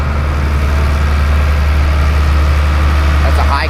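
A propane-engine antique tractor idles steadily with a deep, even throb, loud and close, unchanging throughout.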